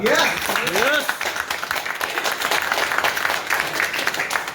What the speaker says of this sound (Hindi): एक बार ताली हो जाए जोरदार